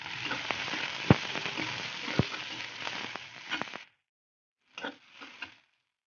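Chopped onion tossed into hot oil with ginger-garlic paste sizzles loudly and steadily with a couple of sharp crackles, then cuts off, followed by two brief bursts of frying.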